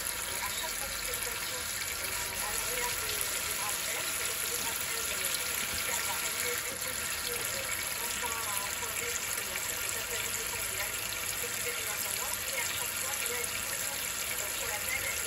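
Hot and cold water runs steadily from a tap while the pipes are flushed after descaling, a constant hiss and splash at moderate level with no break.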